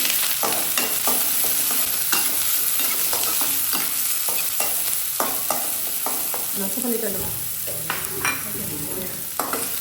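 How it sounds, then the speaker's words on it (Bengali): Chopped onion and garlic frying in oil in a pan, with a steady close sizzle and repeated scraping stir strokes throughout. "এখানে পেঁয়াজ কুচি দিয়ে দিচ্ছি"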